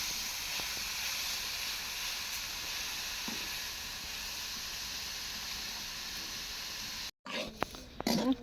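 Leafy greens frying in a pan, a steady loud sizzle and hiss that runs unbroken for most of the time, then cuts out briefly before a few clattering stirs.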